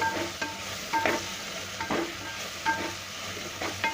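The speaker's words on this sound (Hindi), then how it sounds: "इसको भी डाल के हम कुछ देर भून लेंगे।" Coriander powder, turmeric, chilli powder and garam masala frying in a pan for vegetarian wheat-and-lentil khichda: a steady close sizzle broken by repeated scraping stirs every half second or so.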